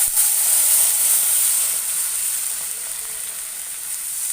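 Boiled milk poured over roasted aval (flattened rice) in a hot pan sets off a loud, hissing sizzle right up close that gradually eases into a softer, steady bubbling simmer.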